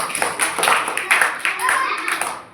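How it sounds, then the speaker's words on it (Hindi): Schoolchildren in a classroom clapping for a classmate, a ragged burst of hand claps in uneven bunches, close and fairly loud. "इस फ्रेंड ने बहुत अच्छा बताया, इसके लिए आप एक बार ताली बजा दे तो बहुत अच्छा"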